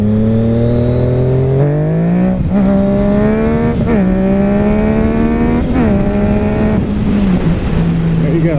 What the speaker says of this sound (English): that's what gives me my rush when I'm riding my motorcycle